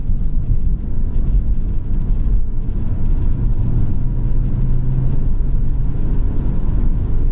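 Vauxhall Vectra B CDX engine revving hard in third gear on a freezing, slippery roundabout, a steady loud droning rumble that rises and holds, with wind buffeting the microphone throughout and no talk.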